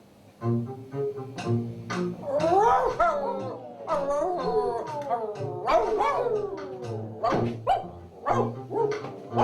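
Stray dogs circle a house in a stage play, barking, yipping and howling in a busy, overlapping chorus that goes on steadily at close range.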